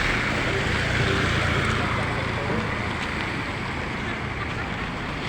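A small boat moves across floodwater over a street, its steady rush blending with wind and splashing waves.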